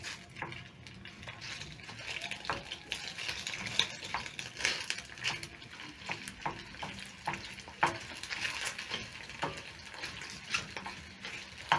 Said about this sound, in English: Add cooking oil, and then I'm going to add in my sausages. Break my sausages using my spatula.